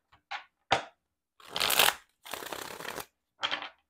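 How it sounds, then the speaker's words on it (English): Tarot cards being shuffled nearby in several quick riffling bursts separated by short pauses, with no voices. "just shuffle again"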